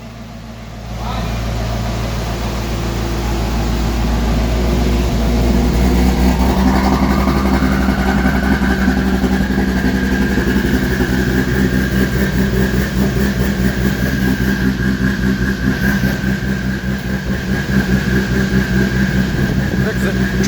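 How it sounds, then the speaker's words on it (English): A car engine runs on a dynamometer, rising from a low idle into a loud, sustained revving roar with a climbing tone that holds steady for a long stretch, close and dominant. "Let's see what we got on the dyno."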